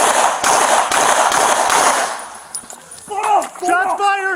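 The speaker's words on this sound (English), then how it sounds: "Shots fired!" A rapid burst of loud gunshots during a police shooting of a reckless driving suspect in Milwaukee, sharp cracks in quick succession for about two seconds, followed by shouted voices.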